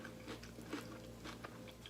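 Someone biting and chewing a beer-battered fish taco with creamy coleslaw: soft, close, quiet crunching and mastication over about two seconds, with no talking.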